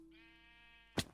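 A single sustained video-game sheep bleat, a steady harmonic tone that holds for about a second and ends in a short, sharp burst of noise.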